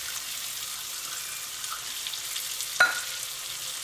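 Onion, garlic, ginger and curry leaves sauté in hot oil for a tomato paste, making a steady soft sizzle close by, broken near the end by a single sharp clink of a utensil.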